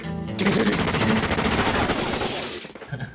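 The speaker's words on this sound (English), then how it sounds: "Oh, the shooting!" Gunfire from a movie scene, a dense, loud burst of rapid automatic shots that roars for about two seconds and then cuts off.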